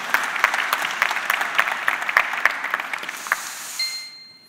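Audience applause at a tech keynote, steady clapping from a crowd that holds for about three seconds and then tapers off, with no talk over it.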